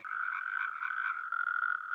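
A frog croaking in a steady, continuous buzzing trill, clear and fairly close with no voices.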